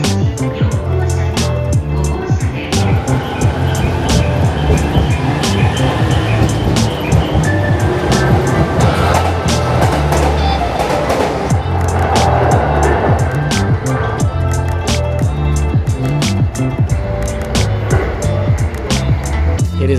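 Commuter train riding toward Katase-Enoshima station near Enoshima, a steady loud rumble and clatter of wheels on rails running continuously throughout with a constant interior roar.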